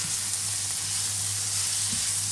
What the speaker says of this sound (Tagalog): Lagyan natin ulit ng oil. And stir fry natin yung vegetables.